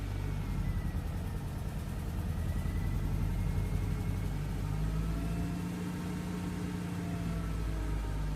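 A 1998 Honda Civic EX engine runs steadily at idle after a fuel pump replacement, a smooth continuous mid-pitched hum with a faint rise in revs partway through, close and loud with no talking.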